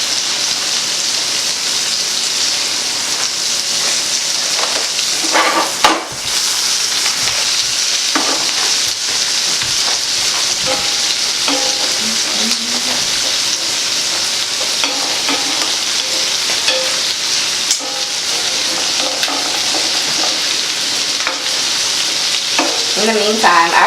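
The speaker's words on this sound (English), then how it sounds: "Shrimp cooking over here." Shrimp frying in a pan give off a steady, loud, close sizzle that keeps going without a break, with scattered light crackles and pops over it.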